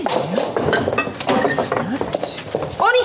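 Dishes and pots clink and clatter while a house is tidied up after a mess, the light metallic knocks running continuously beneath loud overlapping talk.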